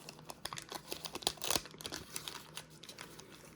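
A late-80s Topps baseball card wax pack is torn open with close, quiet crinkling and tearing paper, peaking in one brief rip.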